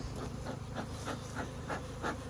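Honeybees that recently swarmed drone around their hive on a goat farm, a continuous close buzzing hum with regular pulsing swells, steady and unaccompanied by talk.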